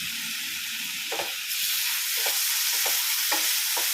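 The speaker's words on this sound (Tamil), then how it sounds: "தக்காளி ஆட் பண்ணி இதை கொஞ்சம் நம்ம வதக்கி விட்டுடலாம்" Tomato and curry leaves sauté in a pan with a bright, continuous sizzle, broken by several rhythmic spatula scrapes and stirs, close and fairly loud with no talk.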